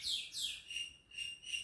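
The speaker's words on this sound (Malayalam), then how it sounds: "കുയിൽ കൂവാണ്." An Asian koel calls faintly in the distance, giving a few high, clear whistled notes in a repeating pattern over soft background hiss.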